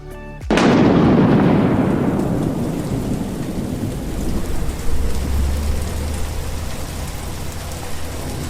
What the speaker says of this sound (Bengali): যা জোরে জোরে বাজ পড়ছে